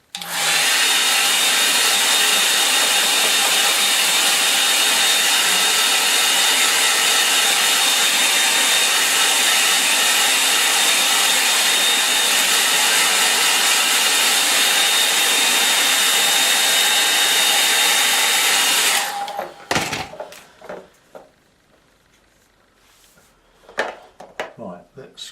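A hair dryer blows steadily and loudly over a painting for about nineteen seconds, then switches off, leaving quiet room noise with a few faint knocks.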